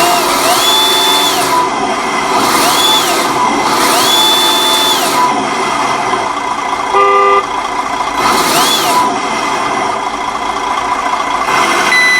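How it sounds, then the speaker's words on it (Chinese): Reversing warning tone from an OB1 light-and-sound unit on an RC Land Rover Defender 90 Camel Trophy scale model, a rising and falling electronic chirp repeating several times over steady motor whine, with a brief beeping burst midway. "OB1 灯组它倒车会有倒车声，有倒车警示音。"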